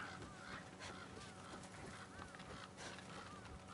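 Birds squawking on a rooftop in a video game give a few faint, rising honk-like calls over a steady ambient game background.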